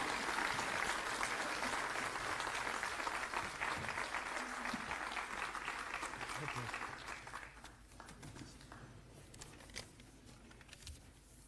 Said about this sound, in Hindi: और अब जोरदार तालियां और खड़े होकर स्वागत करेंगे हमारे प्रसिद्ध मुख्यमंत्री अरविंद केजरीवाल जी,